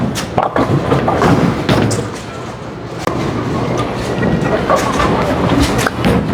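A Hammer Black Widow Mania bowling ball is released onto the lane with a heavy thud midway, then rolls with a steady rumble amid bowling-alley noise and faint voices.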